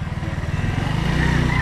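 A motorcycle ridden slowly by a beginner on a practice test ride, its engine putting out a steady low, throbbing putter close by that firms up a little toward the end, with no talking.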